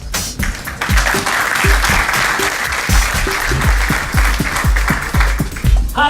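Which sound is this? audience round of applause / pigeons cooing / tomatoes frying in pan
audience round of applause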